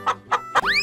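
Three short, close clucks from a chicken come in quick succession, ending in a rising squawk-like whistle, loud and clear against a quiet background.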